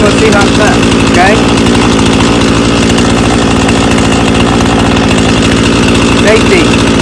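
Chainsaw running at close range during a test cut on a tree limb: a loud, continuous buzzing engine with a steady rough drone and brief revving swells, no clear talk over it.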